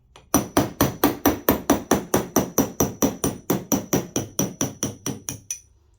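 Steady metallic hammering on a brass drift, about twenty even, ringing blows struck in a regular rhythm, close and loud, then stopping.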